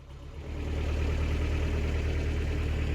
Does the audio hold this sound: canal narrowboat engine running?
yes